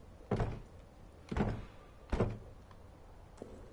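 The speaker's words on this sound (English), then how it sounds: "Why can I not open that door?" A locked door in the video game Amnesia: The Bunker is tried three times, each attempt a heavy rattling thunk at about one-second intervals, then a faint tap, with no talking.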